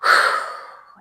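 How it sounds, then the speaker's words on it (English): One deep, breathy exhale during an at-home Pilates workout, close and soft, fading out over about a second with no talk. "Let's just do some nice big breaths."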